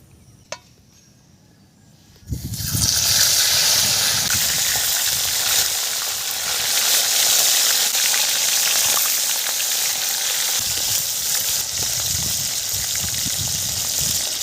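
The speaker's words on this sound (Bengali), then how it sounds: "কড়া গরম হয়ে গেছে, আমি তেলটা দিয়ে দিলাম" Oil sizzles in a hot wok, a sudden loud burst at about two seconds after a quiet start, then a steady close crackling hiss that holds to the end with no talking.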